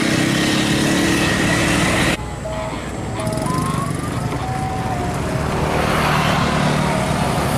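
A Medan Jaya bus roars past close by on the road to Muara Bungo, its heavy engine rumble filling the street with steady broadband noise and a few faint tonal whines.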